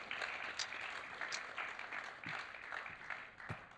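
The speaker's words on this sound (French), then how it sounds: "on peut les applaudir" Audience applause at a French forum theatre performance about caregivers, a steady moderate wash of many hands clapping with a few sharper claps standing out, continuous for several seconds with no talk.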